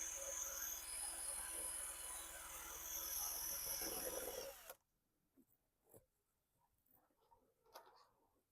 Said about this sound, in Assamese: এই মটৰটো আপোনাক মই ড্ৰিল মেচিনেৰ সৈতে মই চলাই দেখুৱাম